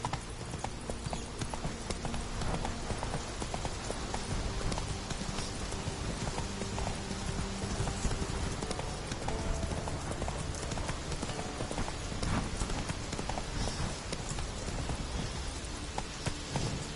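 Roach, a horse in a video game, gallops with steady, rapid clip-clop hoofbeats that run without a break for the whole stretch, loud and close, with light rain-like background noise.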